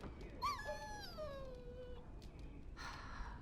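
A dog in the fantasy video game Dragon Age: Origins whimpers with a high, wavering whine that slides downward, followed by a softer breathy whimper, faint against a low ambient background.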